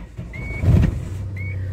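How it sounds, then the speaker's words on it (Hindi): A modified Tata Safari SUV with about 138,600 km on it, its engine idling with a low steady rumble, a brief louder burst in the middle, and a faint thin whine above it. "अगर मैं आपको इसका इंजन का साउंड सुनाऊं"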